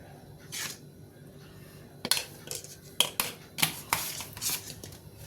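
Turmeric powder being stirred into the raw ingredients for a paalai fish curry, a few sharp utensil clinks and scrapes against the pot at close range, coming in irregular bursts over a quiet background.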